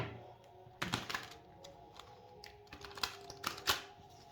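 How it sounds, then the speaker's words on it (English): Quiet riffling and light tapping of a tarot-style deck being shuffled for a card reading, a few crisp flicks and clicks in quick succession, close up in a hushed room. "I'm going to give it one more shuffle."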